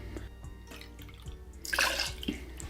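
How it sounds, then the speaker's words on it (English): Two ounces of Barrell Bourbon New Year's 2024 release are poured into a glass, a faint, soft liquid trickle and drip heard close by in a quiet room, swelling briefly near the end. "We're gonna go in with 2 ounces of our bourbon."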